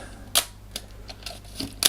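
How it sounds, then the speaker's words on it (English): Arette 1a rangefinder film camera handled at close range: several crisp mechanical clicks spaced through the moment, a sharp shutter release snap and short ratcheting film-wind sounds, with no talking. "So focus, set shutter and aperture, and shoot. The wind on it actually sets the shutter."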